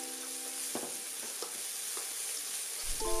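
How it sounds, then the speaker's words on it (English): Chili paste and doubanjiang sauté in a wok with spring onion, ginger and garlic, a steady close sizzle with a few soft stirring scrapes and a brief louder clatter near the end, no talk. "adding our chili paste and doubanjiang into wok and saute them to release the aroma"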